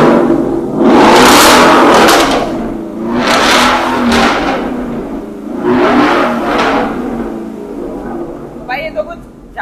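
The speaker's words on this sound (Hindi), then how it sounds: "तो भाई एग्जॉस्ट अपना एक बार एग्जॉस्ट दिखाता हूँ" A Ford Mustang with a customized electronic exhaust revs loudly three times, each surge a roaring burst rising and falling, heard close up in an enclosed space, with a voice briefly at the end.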